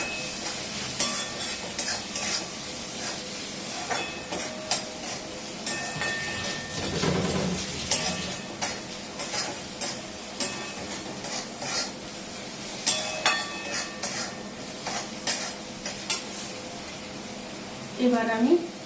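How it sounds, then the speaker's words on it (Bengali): A sauce mixture for egg 65 goes into a hot kadai and sizzles steadily while it is stirred, with scraping and clattering strokes throughout and a voice talking over the cooking. "এবার আমি এই সসের মিশ্রণটা কড়াইয়ের মধ্যে দিয়ে দিলাম, খুব ভালো করে মিশিয়ে নেবো।"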